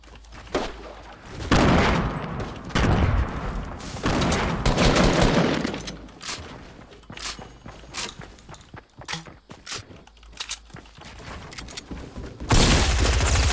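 Shotgun blasts in the Fortnite video game, heavy booming shots repeated amid a chaotic firefight with footsteps and other gunfire, with several loud clusters and a final burst at the end.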